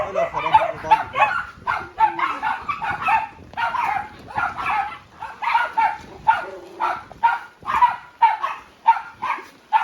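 Rescued stray dogs at a home shelter in Hubei, China bark indoors during heavy rain, with loud, close, repeated barks and yips in a steady rhythm.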